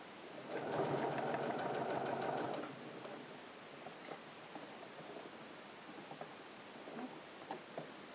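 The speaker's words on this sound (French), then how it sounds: "Enlevez bien vos épingles au fur et à mesure pour éviter de casser une aiguille de machine à coudre." A sewing machine stitches a garment in one loud steady run of rapid needle strokes lasting about two seconds, then stops, leaving faint handling clicks and rustles of fabric.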